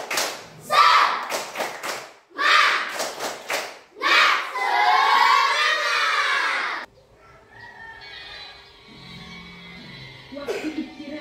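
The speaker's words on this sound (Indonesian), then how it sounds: "kita buat dulu tepuk semangat" A group performs a rhythmic spirit-clapping routine, tepuk semangat, with quick bursts of claps mixed with chanting voices, then a long loud shout before the sound drops to a quiet room tone.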